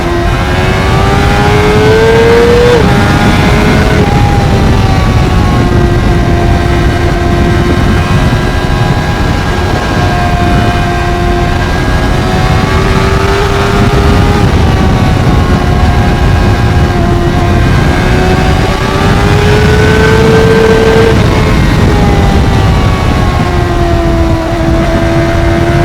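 A Honda CBR600RR motorcycle screams at high revs, its engine note climbing through the gears with brief dips at each shift, loud and constant under heavy wind rush.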